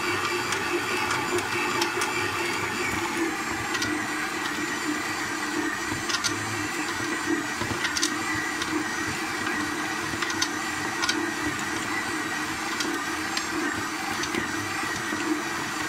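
A stand mixer kneads brioche dough in its bowl, a steady, loud motor whir with a continuous mechanical hum running unbroken throughout, no voices over it.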